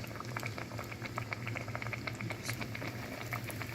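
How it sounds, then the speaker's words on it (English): Pieces of pork tenderloin frying in hot oil for sandwiches make a steady, busy sizzle and bubbling with small crackles and pops, continuous and moderately close throughout. "We're just going to lay it in there gentle. Oh yeah, the oil is hot enough."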